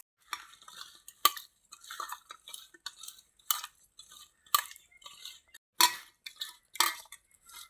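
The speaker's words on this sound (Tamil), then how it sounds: "மிளகாய் பொடி, தேவைக்கு உப்பு போட்டு நல்லா விரவிக்கிடுவோம்." Pieces being mixed with chili powder and salt for a Tamil fish fry, giving a steady run of close, wet scraping and soft clinking strokes against a bowl, with short pauses between bursts.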